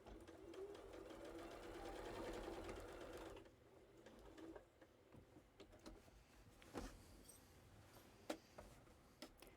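Sewing machine stitching in the ditch on a patchwork quilt in a school bus: a steady close whirring run for a few seconds, then stopping, followed by scattered clicks and handling taps.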